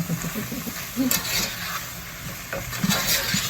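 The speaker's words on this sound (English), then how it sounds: "Give that a nice stir with our black spoon." A black spoon stirs potato and spinach curry in a pan, making soft scraping and stirring sounds over a steady sizzling hiss.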